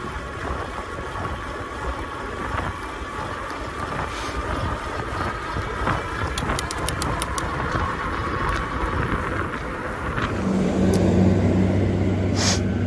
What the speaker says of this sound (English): Let this truck pass.